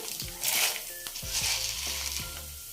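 Thick sago pearls frying in oil for a homemade snack mix, a soft crackling sizzle with several low metallic scrapes and knocks of a utensil against the pan.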